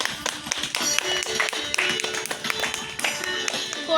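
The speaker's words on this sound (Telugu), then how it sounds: "చప్పట్లు కొట్టాలి కదా" Children at a street Ramayanam skit clap together in a quick, sharp, uneven burst, loud and close, with no talk over it.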